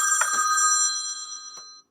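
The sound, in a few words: mobile phone ringing during a live broadcast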